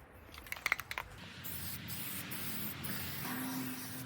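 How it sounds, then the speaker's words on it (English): Sandable primer sprayed as a fine mist onto a wooden guitar neck in a workshop: a few short, close hissing bursts early on, then a steady low hiss of the can with faint background noise. "I'm just using a sandable primer, just putting a fine mist on it."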